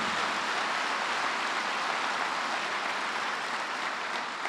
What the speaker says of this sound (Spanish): déle ese aplauso al Señor